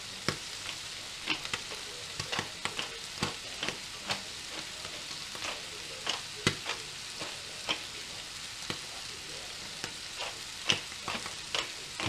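Cracked black pepper sizzling in a hot pan for peppered steak, a soft steady fry punctuated by sharp crackling pops and occasional stirring scrapes, with no voices.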